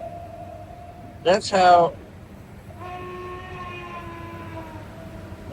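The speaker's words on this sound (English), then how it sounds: "when you press the whistle button, you see the steam? The steam's coming out of the whistle." Lionel model train locomotive whistle with a whistle-steam feature, a short loud two-part toot near the start and then a longer, softer steady whistle tone, with someone speaking briefly.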